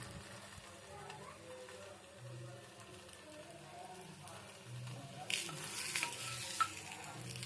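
Radish paratha frying in oil on a pan, a soft steady sizzle that grows brighter and louder near the end, with a person speaking quietly over it.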